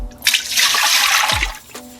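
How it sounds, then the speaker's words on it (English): Four cups of room-temperature water poured into a pot in a home kitchen while making Brazilian party appetizers: a fairly loud, steady splashing rush lasting about a second and a half, with a short quiet before and after. "pour the 4 cups of water in here"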